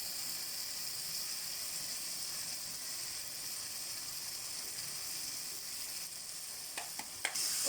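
Chili powder sizzles in a hot pan with a steady, even hiss throughout, and a few light clicks and scrapes from stirring near the end. Nobody speaks.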